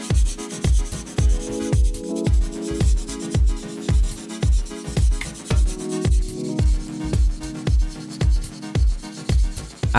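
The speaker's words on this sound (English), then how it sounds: "used a 2500 grit sanding sponge and made sure to very lightly sand the coat up" Rhythmic scrubbing strokes of a 2500 grit sanding sponge lightly wet sanding primer on a 1/24 scale model car body, about two strokes per second, close and steady throughout with no talking.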